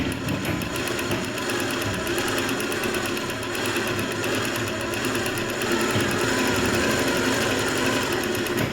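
A sewing machine stitching blouse fabric runs continuously with a fast, even mechanical whirr and rapid needle clatter, close and steady, growing slightly louder toward the end.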